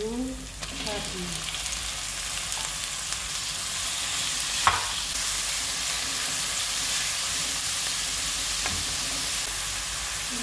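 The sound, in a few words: ground meat frying in a pan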